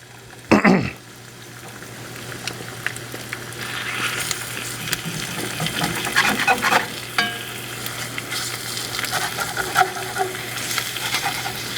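Eggs sizzle and crackle steadily in a hot antique cast iron pan over low heat, a close, busy frying hiss with occasional scrapes and pops, no talking.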